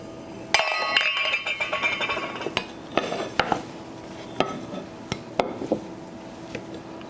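Freshly baked corn, crab and ham tarts are eased out of their baking pan, with repeated bright clinks and scrapes of metal on the pan in an irregular run, close and fairly loud against a low kitchen background.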